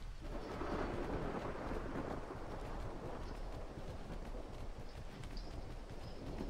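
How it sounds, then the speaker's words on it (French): Steady rain with a low thunder rumble in the video game Ark on The Center map, a faint, continuous wash of noise with no talk. "Là, il pleut."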